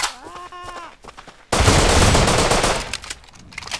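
Rapid gunfire bursts from the survival video game Rust erupt loudly halfway through, a dense sustained volley after quieter game sounds, with no talk over it.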